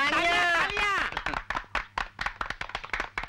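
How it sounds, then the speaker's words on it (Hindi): One voice speaks or sings at first. Then a group claps in sharp, fairly close bursts that fall into an uneven rhythm and continue to the end. "तालियां तालियां तालियां"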